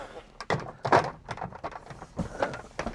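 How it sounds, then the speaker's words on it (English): A wooden drawer is slid back into a cabinet, giving scraping rubs and a few close, irregular knocks and thunks over about three seconds. "Fit this drawer back in now."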